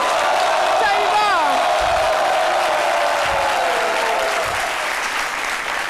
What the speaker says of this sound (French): On applaudit très très fort pour Chantal Taïba.